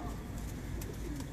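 Pigeons of a fancy breed coo on a rooftop loft, a low, steady, close burbling that fills the short moment with no voices over it.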